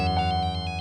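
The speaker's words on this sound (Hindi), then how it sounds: "मत उठा उसका फोन गौरी।" A telephone rings steadily in a quiet indoor scene, its repeating electronic ringtone pulsing in short regular bursts with no talking over it.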